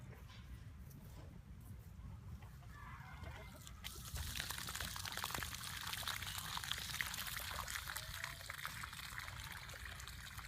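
Water gushes from a pump hose draining a pool before an acid wash, a steady faint pouring and splashing that swells louder partway through, with no one talking.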